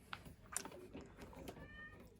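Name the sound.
cat meowing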